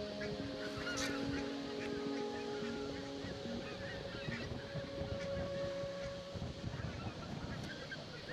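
A flock of wild geese honks repeatedly in the Frisian countryside ahead of wintry weather, the calls overlapping at a distance under a steady low rumble.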